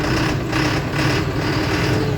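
A 2013 Erkunt Haşmet 110 tractor engine starting: a steady, loud engine drone with a slightly pulsing rhythm, close by, with no voices.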